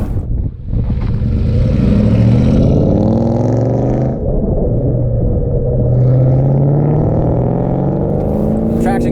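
A 2004 Mustang Cobra accelerates hard with traction control off, its engine roaring loudly and close, the pitch climbing through the gears with a brief dip at a shift, while a person talks over it.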